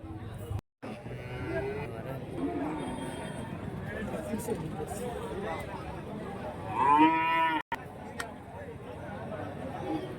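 Young calves for sale at a rural cattle market in Karimangalam, Dharmapuri district, low at close range, with one loud drawn-out moo near the end. Steady crowd chatter and someone talking run underneath throughout.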